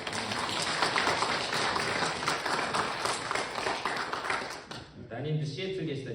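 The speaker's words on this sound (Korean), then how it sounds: "우리 환영의 박수로" A Korean church congregation at Sunday worship in Arizona claps in welcome for visiting members, a steady dense round of applause that stops suddenly near the end as a speaking voice returns.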